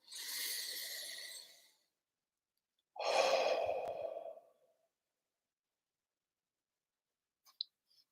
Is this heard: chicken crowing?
no